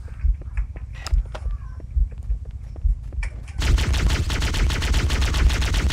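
Assault rifle fire in the video game Halo Combat Evolved starts with scattered clicks and thuds, then breaks into a dense, continuous automatic burst for the last few seconds. Loud and close.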